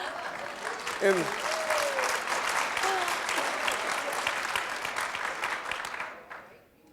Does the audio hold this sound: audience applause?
yes